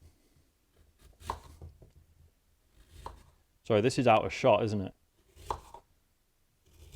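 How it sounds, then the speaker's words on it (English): Apples are chopped with a knife on a board in a quick burst of rapid, close cuts for about a second, set between brief remarks from a speaker and scattered soft kitchen clatter. "it's literally just someone chopping apples"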